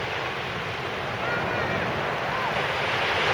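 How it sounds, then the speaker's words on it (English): Surf breaking steadily on Gorleston Beach, a continuous broadband wash of sea waves with wind buffeting the microphone, swelling slightly louder toward the end. "The sea seems to be calming a little bit."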